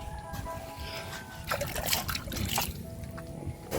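Rainwater trickles and splashes from a house gutter outside, a steady faint dribble with louder bursts of splattering water, and voices talking quietly nearby.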